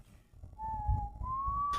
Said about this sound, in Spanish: los silbidos venían de detrás de mí